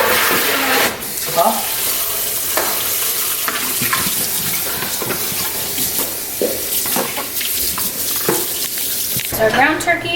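Ground turkey sizzles steadily in a pan, a continuous bright crackle close by, with occasional utensil scrapes and stirring knocks and no speech.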